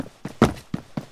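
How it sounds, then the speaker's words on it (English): Footsteps in the Phantom Forces shooter game, five soft thudding steps in an uneven walking rhythm, close and alone, with the middle step the loudest. "Oh, I hear footsteps."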